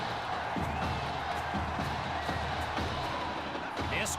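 A stadium crowd roars steadily in Madden 21, a high school football game mode, a dense, continuous wash of cheering with faint thuds beneath.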